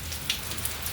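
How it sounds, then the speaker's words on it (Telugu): Heavy rain pours down in a rural village near Sujatha Nagar mandal, making a steady, dense hiss with scattered drop splashes close by and no voices. "వర్షం విపరీతంగా పడుతుంది."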